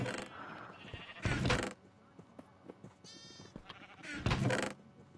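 Sheep bleat in the Minecraft video game, two loud, close bleats separated by a few seconds, with quieter game clicks and clatter in between.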